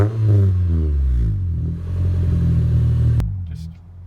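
A 2010 Mitsubishi Lancer engine revs up close, with the pitch climbing and falling over a couple of throttle blips before settling back to a rumbling idle, heard in a quiet residential neighborhood.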